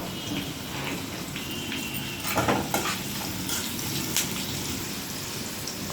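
Asafoetida and turmeric fry in a pan for a tempering for moong dal pongal, a steady close crackle and sizzle with scattered sharper pops, continuous and without talk.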